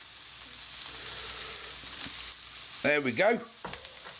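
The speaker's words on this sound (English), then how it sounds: "Get the onions in now, fry them all up." Onions fry in a hot pan for a shepherd's pie, giving a steady close sizzle and crackle, with a brief spoken remark and some stirring clatter partway through.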